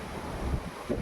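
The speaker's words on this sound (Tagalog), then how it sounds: "Malakas yung hangin eh." Strong wind buffets the microphone in a continuous rough roar with low thumps, no voices, close and steady for a brief moment.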